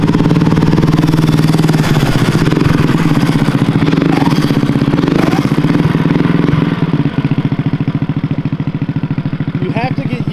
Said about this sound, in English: But this is an electric start engine.